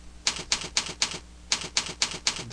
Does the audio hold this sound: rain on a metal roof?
no